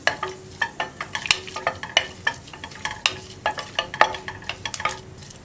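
Whole cinnamon, cloves, cardamom and fennel seeds frying in hot ghee in a pressure cooker for Malabar ghee rice, with a crisp steady sizzle and rapid, repeated spatula clicks and scrapes close by, no voices.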